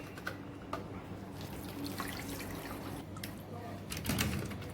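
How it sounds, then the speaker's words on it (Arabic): Blended onion pulp strained to collect its juice, a steady close trickle of liquid running and dripping into a bowl, with a few small clinks and a louder splash near the end. "هنصفي البصلتين كويس لان احنا محتاجين ميه البصل فقط"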